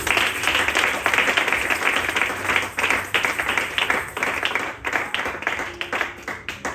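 A church congregation claps and applauds for the Lord, a loud, steady crowd of hands clapping with rhythmic pulses that continues for several seconds.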